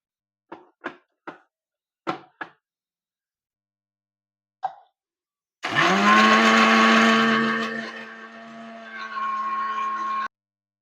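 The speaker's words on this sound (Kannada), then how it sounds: "ಈಗ ನಾನು ಹಾಕೊಂಡಿರೋ ಮಸಾಲನ್ನೆಲ್ಲ ಫುಲ್ ನುಣ್ಣಗೆ ಪೇಸ್ಟ್ ತರ ರುಬ್ಕೊಳ್ಳೋಣ" A mixer grinder grinds green masala for fish into a fine paste, starting with a few sharp knocks and clicks, then a loud sustained motor whine with a brief dip before it runs on and stops abruptly.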